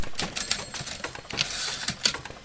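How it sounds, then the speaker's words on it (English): Rapid mechanical typewriter keystrokes clatter continuously with a faint ring, busy and close, like steady typing on an old machine. "typewriters,"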